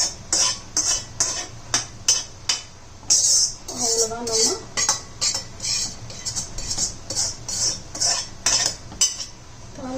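A metal spoon repeatedly clinks and scrapes against a pot as a mustard seed, cumin and asafoetida tempering is poured into sambar, a run of sharp, close taps over low background hiss.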